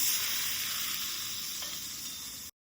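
Hot oil tempering with mustard seeds and curry leaves sizzles over chutney, a close, steady hiss with a few tiny crackles that stops abruptly into silence.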